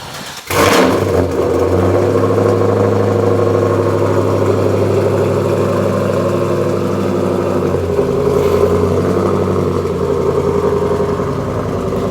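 A Volvo car engine heard from inside the cabin, a steady, loud mid-pitched drone that holds through the whole stretch with a slight swell near the end, no voices over it.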